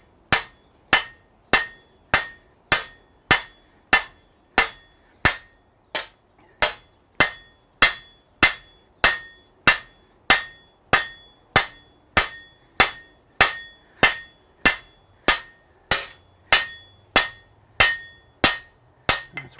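Steady hammer blows ring out on hot metal at a smithy anvil, roughly thirty sharp metallic strikes in an even rhythm, loud and close, with a brief pause after the first few.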